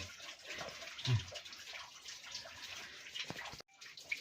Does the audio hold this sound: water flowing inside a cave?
yes